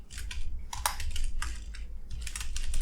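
Bursts of computer keyboard typing while data is entered into a form, quick clustered keystrokes in three or four runs with short pauses, close and moderately loud, no talk.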